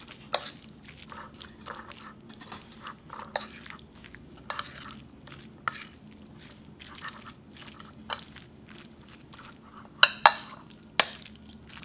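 Mung bean sprouts being hand-mixed with hot pepper paste and sesame oil give soft, wet squelches and light clicks against a bowl, irregular and close, with a few sharper taps near the end and no talking.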